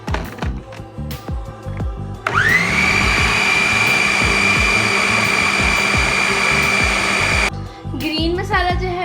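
Electric chopper whirring loudly for about five seconds while chopping onion and garlic with green herbs for falafel, a steady high motor drone starting abruptly and cutting off, with clattering kitchen knocks before and after.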